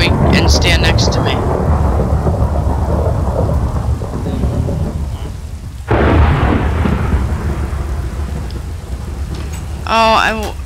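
Thunderstorm in a survival video game, with loud rumbling thunder and heavy rain throughout, a short lull in the middle, then a fresh crash of thunder and a short high chirp near the end.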